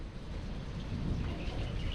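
Outdoor drizzle and rain over a garden of calamansi plants, a steady dense hiss with low rumbling underneath like distant thunder, continuous and fairly loud throughout.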